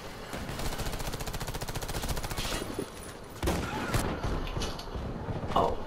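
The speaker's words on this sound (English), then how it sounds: "I like the shotgun that I'm using right now better. Just because of how fast it shoots." Shotgun firing in rapid succession in the video game Warface, a fast, even train of loud shots running almost the whole time, briefly broken by a short pause.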